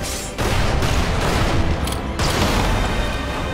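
Grenades blow up in the video game Magicka, a loud, dense barrage of booming blasts and crackle that continues almost unbroken across a few seconds, with a brief dip partway through.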